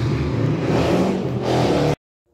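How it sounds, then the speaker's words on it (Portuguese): A motorcycle running without an exhaust revs loudly nearby, a harsh, raw engine roar that swells and then cuts off abruptly into silence. "tem uma moto rodando aí sem escape"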